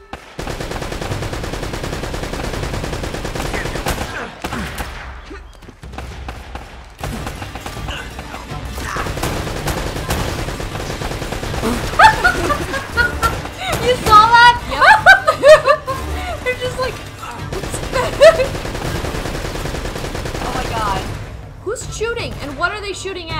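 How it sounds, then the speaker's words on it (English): Gunfire rattles in intermittent bursts during a fortress fight in Uncharted: Drake's Fortune, mixed with crashes, game music and players talking and laughing over it. "it's some hardcore shooting"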